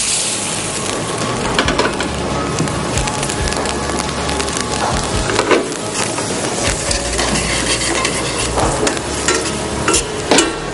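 Bourbon hitting a hot pan and flaring up, giving a loud, dense, continuous sizzling roar with crackles and occasional scraping of the pan, close up and sustained.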